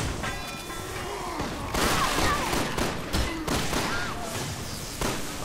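Gunshots in the Resident Evil 6 video game, several sharp reports clustered in bursts among in-game impacts and effects, with a faint voice in the background.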